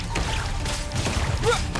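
A water jet attack in Genshin Impact bursts out with splashing, whooshing game effects and brief impact hits, loud and close, layered over background game sound.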